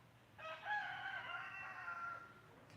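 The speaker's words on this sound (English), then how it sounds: "That rooster doesn't know what time of day it is. He talks all damn day." A rooster crows once in a long, drawn-out harmonic call lasting about two seconds, fairly close and clear over faint low background rumble.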